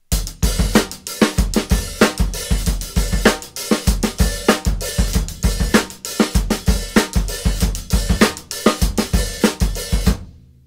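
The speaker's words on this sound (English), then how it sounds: "if you apply the bass drum and snare drum" A full drum beat plays alone: punchy bass drum and cracking snare driving a steady groove, with hi-hats ticking between hits.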